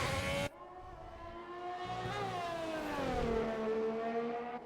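An F1 race car engine in a racing video game at Abu Dhabi drones at high revs, its pitch sliding up and easing down through gear changes. A brief burst of noise comes first.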